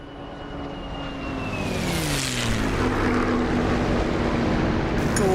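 A propeller aircraft engine in the DCS flight simulator cranks and catches, rising from a low whine into a steady, building propeller drone, heard alone and growing louder.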